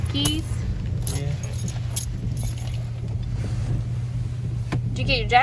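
Keys jangle in a car's cabin while a steady low hum runs underneath and people talk nearby, with a few light metallic clinks scattered through.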